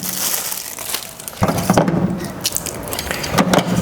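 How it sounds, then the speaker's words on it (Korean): Plastic wrapping being peeled off the filter of a Kumho Electric Beonlgaepyo K-WAVE air purifier with LED light, close crinkling and crackling bursts that grow busier partway through. "비닐을 먼저 벗겨 주도록 하겠습니다."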